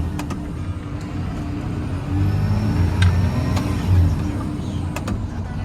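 A Unimog camper truck drives along, its engine droning loud and close, swelling as it climbs through the gears, with a few sharp clicks and rattles from the cab.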